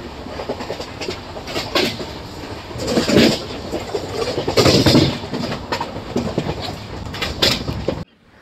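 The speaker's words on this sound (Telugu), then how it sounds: "అదిగోండి విశాఖ ఎక్స్ప్రెస్ని కూడా మన ట్రైన్ అయితే క్రాస్ చేసుకుంటూ వెళ్తుందండి." A Visakha Express passenger train runs past on a loop line, giving a steady loud rumble with rhythmic clatter of wheels over rail joints that drops away abruptly at the end.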